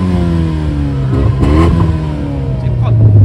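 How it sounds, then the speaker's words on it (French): A Renault Megane 3 RS with a 250 hp engine and a stainless straight-pipe exhaust (silencer removed) revs loudly up close, its rising and falling engine note continuous throughout with a brief crackle mid-rev. "Et puis, vas-y, je te laisse accélérer."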